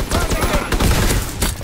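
Shotgun fire in the Call of Duty WWII video game, a cluster of sharp, close blasts and impacts packed into under two seconds amid a dense, noisy game mix.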